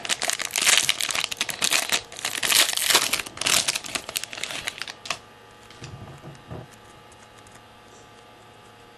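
Plastic wrap on a 2008 UD Premier baseball card box crinkles and tears in loud, dense bursts for several seconds, then falls to a few soft rustles and handling sounds.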